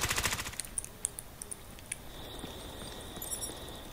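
Rapid automatic gunfire from a newly picked-up gun in Ghost Recon: Future Soldier, a quick burst of loud shots at the start followed by sparse single pops and faint game ambience.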